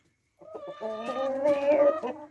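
A Rhode Island Red hen clucks close by in a short rising run of calls that swell into a drawn-out squawk, outdoors in the rain.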